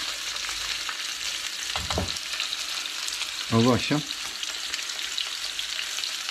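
Scorpionfish fry in a pan with a steady close sizzle and crackle. Someone speaks briefly in Turkish over the frying.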